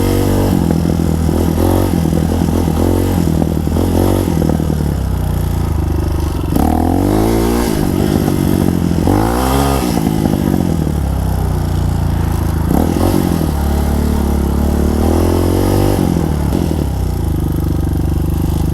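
A 2021 Tao Motor TBR7 motorcycle on a test ride revs hard, its engine rising and falling in repeated throttle sweeps with clattering mechanical noise, loud and close throughout.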